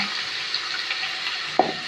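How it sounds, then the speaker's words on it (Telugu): Mustard seeds and chana dal frying in hot oil as ginger garlic paste goes in for an upma-style dish, a steady soft sizzle throughout with one brief sharp clatter near the end; no voices. "ముందుగా వేసిన పోపు దినుసులు వేగిన తర్వాత కొంచెం అల్లం వెల్లుల్లి పేస్ట్"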